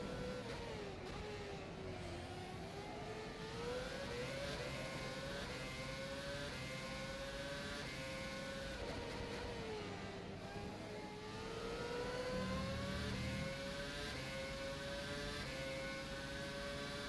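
A Formula One car engine in the rFactor 2 racing game whines steadily through continuous high revs, with the pitch rising and falling through gear changes over a long, unbroken stretch.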